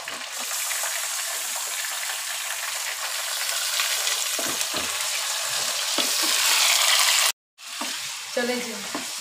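Chicken pieces fry loudly in an oil-filled pan for aloo gosht, a continuous hissing sizzle with stirring scrapes, briefly interrupted, then bubbling resumes with faint background voice.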